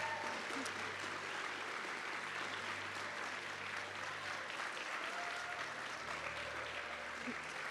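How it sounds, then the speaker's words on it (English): An audience applauds award winners at a dance event, with steady sustained clapping throughout and a faint voice or two beneath it. "He's upstairs, so we're just gonna clap anyway."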